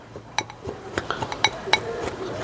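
Homemade rose fertilizer being stirred by hand in a container, giving a string of close, sharp clinks and scrapes at an irregular rhythm over a low background hum.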